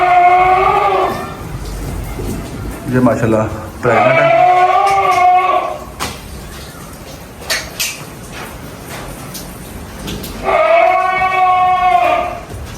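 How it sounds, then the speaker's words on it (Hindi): Goats bleat in repeated wavering calls, loud and close, interrupted by a person speaking and some clattering in between, with rain falling outside. "बकरा एक दो ऊपर है, वो शोर डाल रहे हैं।"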